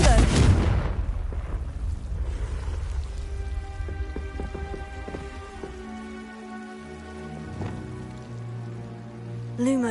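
The Confringo blasting spell going off in Hogwarts Legacy: one loud, broadband burst right at the start that quickly dies away under sustained tonal game music and ambience.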